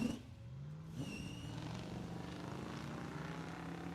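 Drag racing at Cordova Dragway during BOP Nationals, with a big Oldsmobile 98 against a Cutlass: engines can be heard in the distance, rising in pitch as they rev and accelerate, faint against the open outdoor air.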